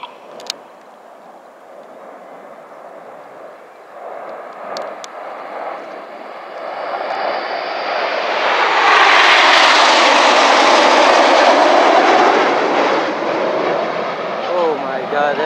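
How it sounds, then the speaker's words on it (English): An RAF Eurofighter Typhoon multi-role combat jet passes overhead at an airshow at Epsom College, its engine roar swelling from a distant whine to a loud, close rush before easing slightly. "It's the Royal Air Force's multi-role combat aircraft, a very capable aeroplane. It's the Eurofighter Typhoon."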